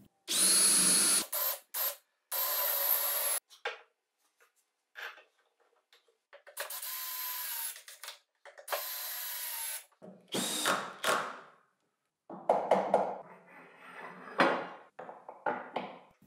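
Power drill driving screws to fix bushings onto a plywood spacer, several short bursts of whirring separated by pauses, followed by fainter clicks and handling noises.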